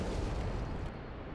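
A dense, roaring blast of video game gunfire fills the moment, loud and broadband, sustained with no voices.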